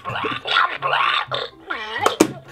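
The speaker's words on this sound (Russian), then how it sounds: "А если нажать ему на язык, он рыгает." A Slime Monster toy lets out a short gurgling burp with grunting, piglike tones, loud and close, in a brief clip with no other sounds around it.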